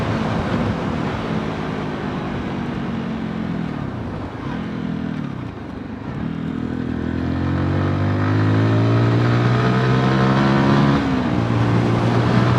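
A 2022 MASH X-ride 125 motorcycle ridden in sixth gear at around 50 mph and 9,000 rpm, its engine droning steadily and loudly, dipping briefly midway, then revving back up with rising pitch under wind noise.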